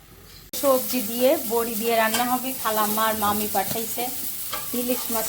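Loud, close sizzling of rohu fish frying in a pan, with steady crackle underneath while a person talks over it throughout.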